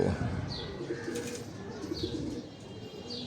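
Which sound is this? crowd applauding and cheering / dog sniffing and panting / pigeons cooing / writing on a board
pigeons cooing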